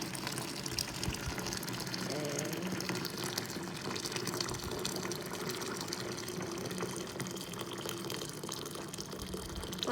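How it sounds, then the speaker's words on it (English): Hot water poured steadily into a jar, a continuous close gushing and splashing that runs the whole time without a break. "First, we must pour hot water."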